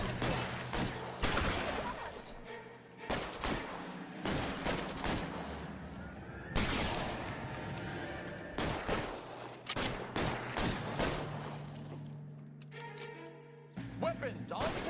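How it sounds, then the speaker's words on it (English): Rapid bursts of gunfire crackle through a video game shootout, dense volleys and single shots stacking over one another for the whole stretch, loud and close, with a voice talking over parts of it. "Ох, перестрелки начинаются уже."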